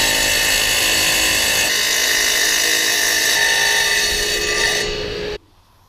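Power sawing from across the street makes a loud, continuous grinding and rasping whine that holds steady for about five seconds, then cuts off abruptly into near quiet.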